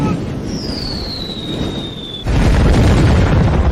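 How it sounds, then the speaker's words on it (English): Grenade blasts on a battlefield: a high whistle slides downward for about two seconds, then a sudden loud, roaring explosion rumbles on to the end. "Grenades!"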